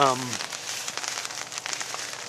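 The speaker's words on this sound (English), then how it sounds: "If you'd noticed, and you could hear it, it's already started raining." Rain starts falling on a hammock tarp, a steady hiss of fine patter and light crackling drops, with a short voice at the very start.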